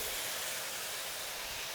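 Stir-fry sauce poured into a smoking-hot wok of seared beef and asparagus, giving a steady, loud broadband hiss and sizzle that holds evenly throughout with no voices.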